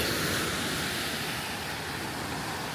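Ocean waves breaking on a private island beach, a steady broadband wash of surf that stays loud and continuous throughout with no voices.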